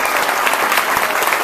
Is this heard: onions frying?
no